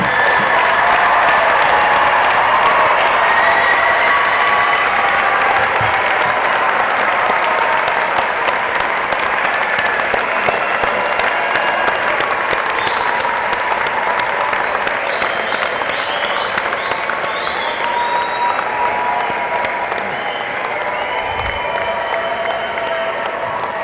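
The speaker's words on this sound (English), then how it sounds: "Let's give them a big round of applause." A large commencement audience at a Hofstra University undergraduate graduation gives sustained, dense applause for family and friends, with a few scattered cheers and whistles.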